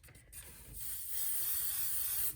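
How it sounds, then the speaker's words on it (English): A spray bottle sends a steady, continuous hissing mist onto a fuzzy sock being prepared for machine embroidery. The spray is close and fairly loud, follows a few quick pumps, and lasts about two seconds with no talking. "I am going to spray it."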